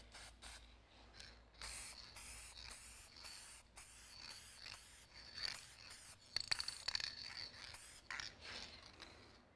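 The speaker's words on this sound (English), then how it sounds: "I'm going to coat this with a fine spray of polyurethane" Fine spray of polyurethane sealant misted over gold leaf lettering, heard as repeated short hissing bursts with brief pauses, fairly close and steady, with faint mechanical clicks and no talking.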